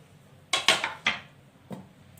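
Several clattering knocks as ingredients are dropped into a clay pot for mutton yakhni, a quick cluster of close hollow clunks followed by one softer knock.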